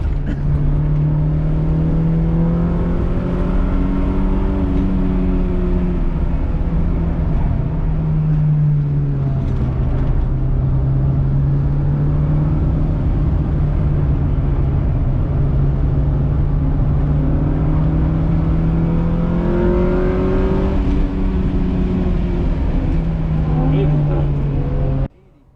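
An Acura Integra bought for $3000 laps a race track on its first track day, its engine droning loud and steady with rising and falling revs as it accelerates and lifts through corners, continuous throughout.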